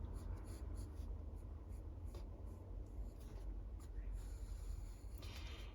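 Continuous soft scratching of a pencil shading a shadow on paper, faint and close, with light rhythmic strokes throughout.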